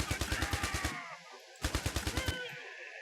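Machine gun turret in the tower-defense game IS Defense firing rapid bursts: a run of evenly spaced shots for about a second, a brief pause, then a second burst, loud and close with no talk.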